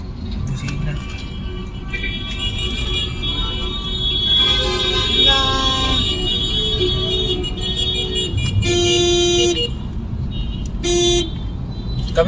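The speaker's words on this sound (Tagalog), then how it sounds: "Busina." Car horns honking in road traffic, several distinct toots of varying length, the loudest near the two-thirds mark, over a steady engine rumble while people talk.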